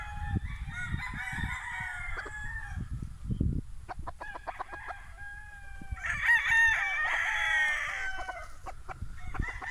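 A gamecock stag at a Bohol game farm crows repeatedly, its calls loud and near, with clucking from other fowl around it and a brief voice early on.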